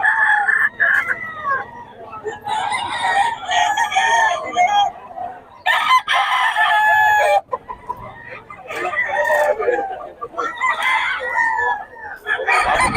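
A Pumpkin Sweater gamefowl rooster crows repeatedly and loudly up close, with several long cock-a-doodle-doo calls across the stretch, some overlapping, and brief clucking between them.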